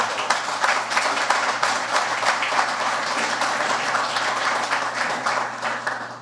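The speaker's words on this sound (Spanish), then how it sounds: "Y por eso yo pido un gran aplauso" A lecture audience breaks into sustained applause, dense clapping from many hands holding steady at moderate loudness, with a low hum beneath it.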